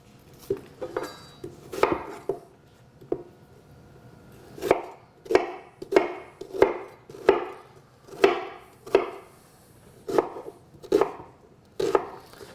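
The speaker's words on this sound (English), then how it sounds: "So I'm just going to cut up my onion." A knife chopping a yellow onion on a cutting board for beef stew, a steady run of about a dozen sharp, close thuds at a slow, even rhythm, loud and clear with no talk.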